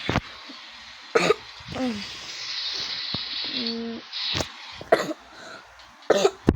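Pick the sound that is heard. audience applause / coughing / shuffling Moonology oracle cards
coughing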